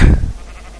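A sheep in the video game Minecraft gives a single short, loud bleat up close, then fades out quickly.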